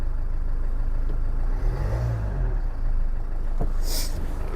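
A Range Rover Evoque engine idles just after a timing belt and water pump replacement, a steady close mechanical rumble with a slight rise in revs midway and a short high beep near the end.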